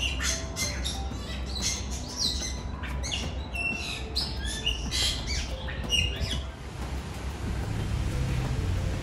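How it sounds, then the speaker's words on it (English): Squawks, chirps and calls from many birds in an aviary at a Hong Kong botanical garden, where cranes and flamingos are kept, overlap in a steady, busy chorus over a constant low background hum. "So they have aviary here. They have lots of birds, lots of animals."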